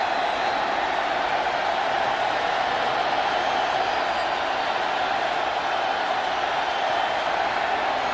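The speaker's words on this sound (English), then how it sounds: "Crowd gets loud." A loud football stadium crowd roars steadily at an NFL preseason game between the Oakland Raiders and Seattle Seahawks, building on a third down, a dense unbroken wash of noise filling the whole stretch with no clear pauses.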